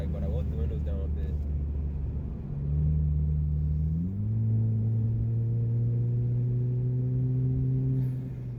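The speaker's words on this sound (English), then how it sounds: "So let's listen to the car." Car driving at night with the windows partly down, a steady low engine rumble and road roar with a tonal hum that steps up in pitch as it shifts, continuous and close.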